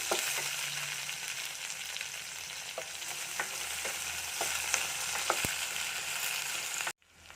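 Lengthwise-sliced onion frying with okra in a pan, a steady loud sizzle with occasional stirring clicks of a utensil, cutting off abruptly near the end.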